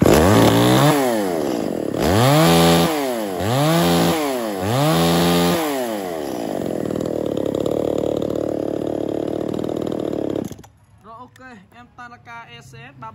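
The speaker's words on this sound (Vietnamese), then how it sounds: "rồi giờ em sẽ khởi động lại cho anh em nghe ha" A Tanaka ECS3302 33cc mini top-handle chainsaw, just restarted, revs up and down three times in strong rising-and-falling bursts, then holds a steady idle before cutting off, leaving someone speaking close by.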